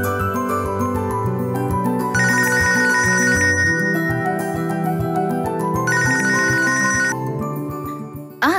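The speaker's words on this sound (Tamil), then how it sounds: "ஃபோன் அடிக்குதுல" A telephone in a Tamil television serial rings with a synthetic ringtone melody, loud and up close, playing continuously and repeating its phrase for about eight seconds with no talking over it.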